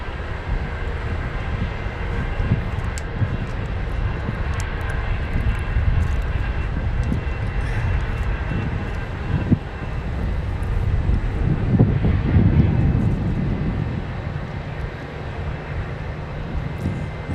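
A China Airlines airliner's jet engines roar at Phoenix Sky Harbor airport, a broad, sustained rumble that swells and fades slightly over time, heard alone from a distance.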